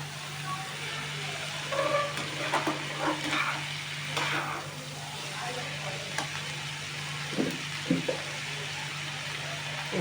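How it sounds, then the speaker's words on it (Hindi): Tomatoes are stirred in a frying pan, with soft sizzling and a few scraping, clinking strokes over a steady low hum. "इसे डाल के फिर इसको टमाटर डाल के घुमाने का"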